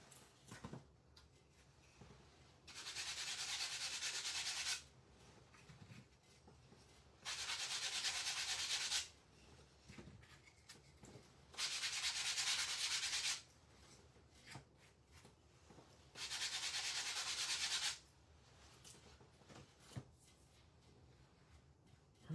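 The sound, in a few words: lightly sanding wood slice ornaments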